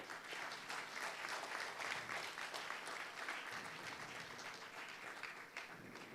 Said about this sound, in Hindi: एक बार सभी अचीवर्स के लिए बहुत जोरदार तालियां